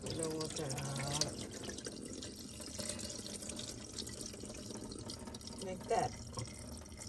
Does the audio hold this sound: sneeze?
no